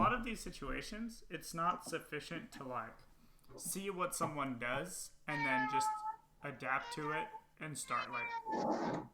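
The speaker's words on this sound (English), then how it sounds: "Sorry, that's my cat." A house cat meows several times in the background, the calls rising over steady close conversation during an online game lesson.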